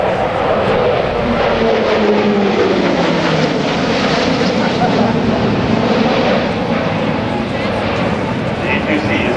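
A Navy E-2C Hawkeye turboprop at an airshow, a loud continuous propeller drone with a slowly shifting engine pitch, heard under an announcer's voice over the public address.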